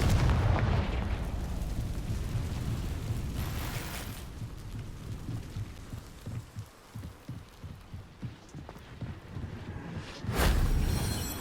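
Explosive blast from the Confringo fire spell in the Hogwarts Legacy video game, a loud broadband burst at the start, then crackling, rumbling debris over several seconds and a second heavy boom near the end.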